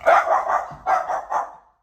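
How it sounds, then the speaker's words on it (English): A small dog yips close by in a quick burst of about five sharp, high barks over under two seconds. "you got a little yeeping dog"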